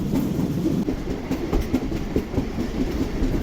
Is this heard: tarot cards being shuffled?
no